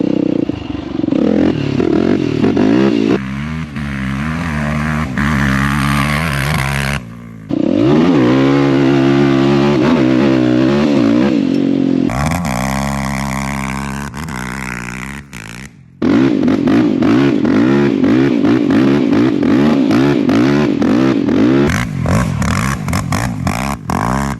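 A Yamaha YFZ450 ATV engine revs loudly and continuously while driving through dirt, its pitch climbing and dropping with the throttle, with brief cuts in power around a third and two-thirds of the way through.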